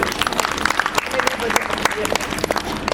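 Audience applause at a Hindu devotional jagran, a steady patter of many hands clapping through the whole stretch, with a voice speaking over it.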